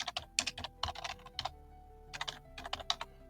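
Computer keyboard typing into a search box, quick close clicking keystrokes in two short bursts separated by a brief pause, with no voices.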